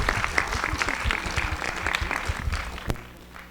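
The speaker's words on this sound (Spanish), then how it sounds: "Un fuerte aplauso, por favor." Audience applause at a Spanish-language gathering defending sovereignty, a steady crackle of clapping hands that fills the room for a few seconds, then thins and fades toward the end.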